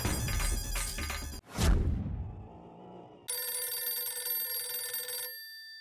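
A telephone rings in a Hindi sitcom scene, a bright continuous electronic ring that follows a short burst of music and a swoosh, sounding loud and clear for about two seconds before cutting off.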